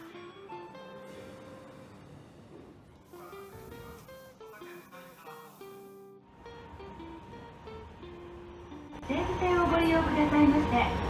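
Seibu line train interior ambience with a steady rumble and a chiming announcement tone, then rising rushing noise near the end as the train moves.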